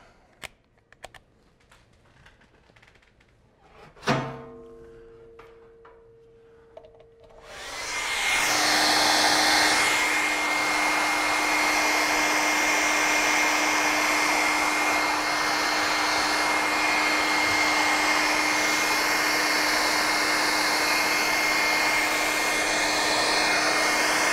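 A hair dryer heating a sculpted Halloween prop clicks on after some small handling noises, then runs as a loud steady whooshing blower hum with a constant whine for the rest of the span.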